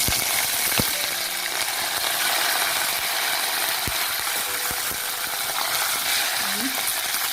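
Curry leaves frying in hot oil in a pan for an okra curry, a steady loud sizzle with occasional clicks and scrapes of stirring.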